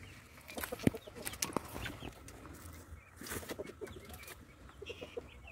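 Native heritage chickens, including laying hens, cluck and call close by in a farmyard, with irregular short clucks and a few sharper squawks over a faint outdoor background.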